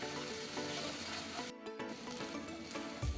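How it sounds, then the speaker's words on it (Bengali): Spices with turmeric and salt fry in a pan with a steady, close sizzle that briefly drops out partway through, with no voices. "এটা খুব ভালো করে ভেজে নিতে হবে।"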